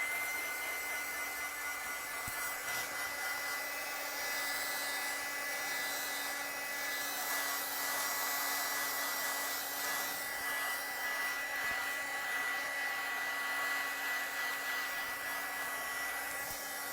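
A hair dryer blows steadily on an art journal page to dry a freshly applied background layer, a constant close whooshing hum with a faint tonal whine that runs unbroken the whole time, with no talking.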